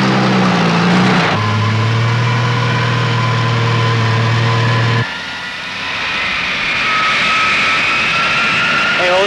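A jet airliner takes off at Los Angeles International Airport in 1970, a loud sustained engine roar with a shifting whine, near and dominant throughout.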